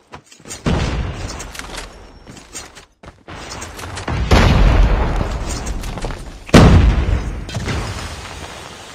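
A grenade explodes in a Call of Duty Search & Destroy match. Several heavy booms and rumbling blasts rise and fall over nine seconds, with one sharp, loud hit near the end and scattered mechanical clatter between them.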